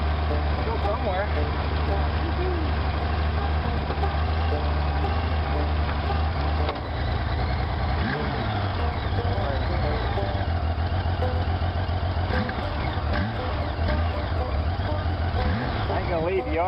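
A motorcycle engine runs steadily and close by throughout, a continuous low rumble with slight shifts in pitch partway through, while a person talks over it.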